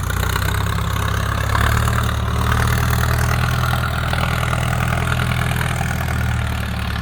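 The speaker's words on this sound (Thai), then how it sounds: "คันนี้เครื่องยนต์ 90แรงม้าโพสตาร์นะครับ" A 4x4 pickup or tractor-type vehicle with a 90-horsepower engine idles nearby, a steady low rumbling drone with an even mechanical throb and no speech.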